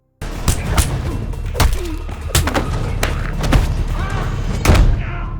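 Several sharp gunshots ring out at irregular intervals over a busy, noisy background, with heavy thuds and a few faint voices in between.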